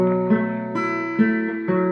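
A classical guitar barre chord rings out clearly and is restruck several times at an even pace, sustaining softly between strums with no talking.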